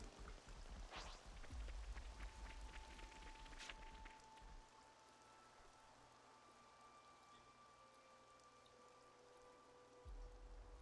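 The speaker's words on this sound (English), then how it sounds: "It is still raining." Steady rain in the video game Xenoblade Chronicles 3 patters and drips, busier at first then settling into a soft, even hiss with faint tonal hums underneath.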